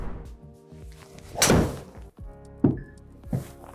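Golf club driving a golf ball off the tee, with three distinct sharp impacts spaced about a second apart amid light background noise, the first strike strongest.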